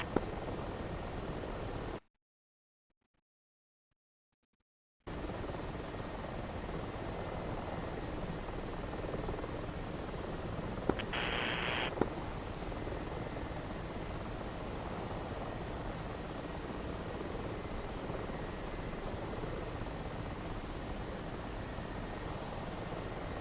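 An Apache helicopter in a combat flight game drones steadily from nearby, a constant engine and rotor rumble broken by a short gap of silence, with no talk.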